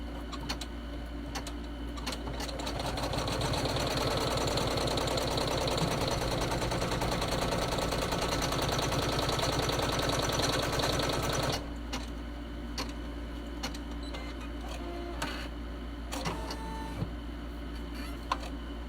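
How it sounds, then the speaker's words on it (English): A sewing machine stitches a tack-down on a leather credit card holder, running in a steady, fast mechanical buzz for about nine seconds after light clicks, then stopping to quieter clicking and handling noises. "I'm going to go ahead and stitch the tack down."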